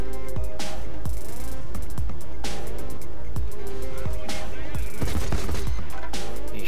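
Tank cannon fire in War Thunder, heavy shots thumping in among constant engine rumble and tracks, with a loud mechanical bed throughout and several sharp booming reports spaced a second or two apart.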